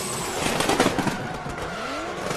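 Drift car engine roaring and revving hard through slalom corners at a Red Bull car park drift event in Muscat, with tire squeal and skidding, loud and sustained across a couple of seconds.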